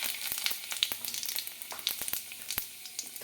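Panch phoron spices and a bay leaf sizzling in hot oil in a pan, giving a soft, steady crackle dotted with sharp pops and spits, with no talking.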